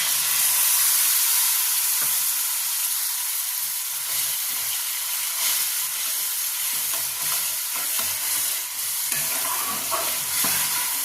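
Soaked mustard paste frying with cooked-down spices in a pan, a steady loud sizzle and hiss with scraping stirs throughout, no voices.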